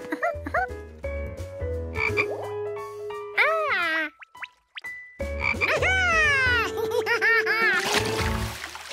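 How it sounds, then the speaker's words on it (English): A toy frog gives a series of loud, bouncy croaks with springy, rising and falling tones, pausing briefly midway before croaking again. "the most awe-inspiring toy frog that ever lived"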